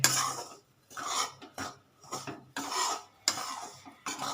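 A spoon scrapes and stirs dry rice flour in a pan as it roasts, giving repeated rasping strokes in an uneven rhythm, close and clear with no talk.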